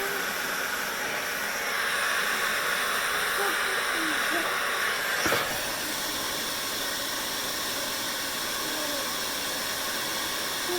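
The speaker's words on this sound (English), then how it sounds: "So I'm just going to run the dryer through that section too." A handheld hair dryer blows steadily through a salon blow-out of a hair section, a close broadband whoosh that holds almost unchanged for the whole stretch, with a brief knock midway.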